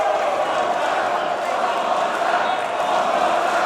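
A wrestling crowd in Manchester roars with steady, loud cheering and shouting at a live show, a dense unbroken wall of voices filling the arena throughout.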